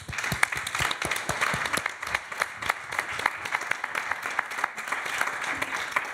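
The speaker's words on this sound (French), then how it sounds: "on t'applaudit" An audience at a journalism award ceremony applauds: many hands clap in a sustained, moderately loud patter, with a few sharper claps standing out early on.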